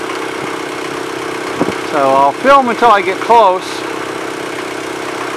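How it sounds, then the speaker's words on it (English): An Allied 36 sailboat's engine running with its compartment fully open, giving a steady low idling hum throughout while someone talks over it for a few seconds. "Sorry about the engine noise. I have the engine compartment completely open so I can keep an eye on the engine"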